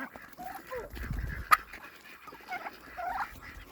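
Farm poultry kept in a pen, such as turkeys and ducks, give scattered gobbling and quacking calls with a brief sharp squawk, moderately near and fairly quiet.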